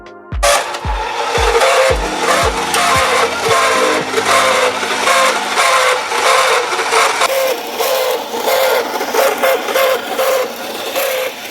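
A Joustra toy Alfa Romeo Navajo Bertone 33 runs on its track, giving a loud, steady whirring rattle throughout, with a few sharp thumps at the start.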